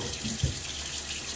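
A bathroom tap runs water for wetting the face before a wet shave, a steady soft splashing stream with a brief louder gush partway through, close by and without speech.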